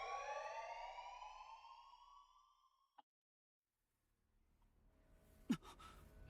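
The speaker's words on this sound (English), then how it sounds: "A loud alarm abruptly brings me back to reality from my dream." An alarm in the video game Shuten Order rings loudly in a sustained, harmonic electronic tone for about three seconds, then cuts off abruptly into silence before faint background noise returns.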